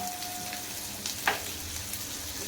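Finely chopped onion dropped into hot oil with cumin and garlic, a low, quiet sizzle with a brief louder hiss and a soft stir in the middle, no voices.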